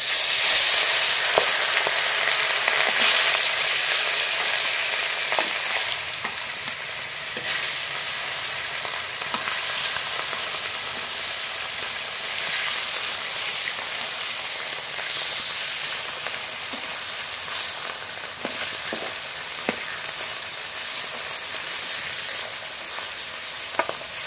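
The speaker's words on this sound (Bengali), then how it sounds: "প্রথমে ভোলা মাছ ভেজে নেব।" Bhola fish frying in hot mustard oil in a wok, a steady loud sizzle and hiss that continues throughout with small crackles and pops scattered across it.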